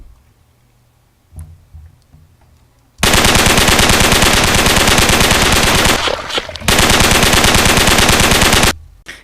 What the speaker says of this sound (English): We don't want the kind of player gun sound to be too over the top, really.